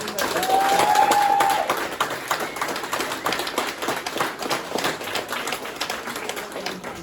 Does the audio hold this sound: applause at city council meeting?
yes